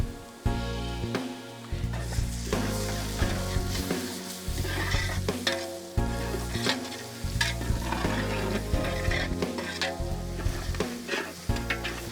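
Turmeric, chili powder, cumin, coriander powder and ginger garlic paste frying in oil for chicken Patiala, a steady loud sizzle with repeated scraping stir strokes and pan knocks throughout, no talking.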